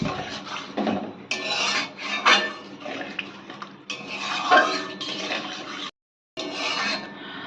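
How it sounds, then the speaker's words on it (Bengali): Water poured into a pan of prawn curry with taro root, a broad rushing splash that comes in several bursts with short pauses and one brief silent gap, loud and close with no voices. "এবার এর মধ্যে আমরা জল দিয়ে দেবো পরিমাণ মতো"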